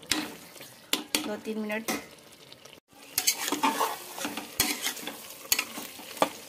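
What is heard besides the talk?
mutton being fried and stirred with spices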